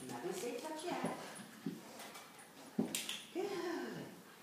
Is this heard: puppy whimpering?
yes